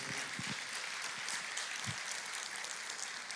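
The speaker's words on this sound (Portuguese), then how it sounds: "Pode aplaudir ao Senhor." A church congregation claps together in a continuous, moderately loud wash of applause, with a few lower thumps from nearby hands.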